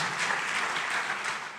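A church congregation applauding during a sermon, a continuous wash of many hands clapping, steady and moderately loud, tapering slightly at the end.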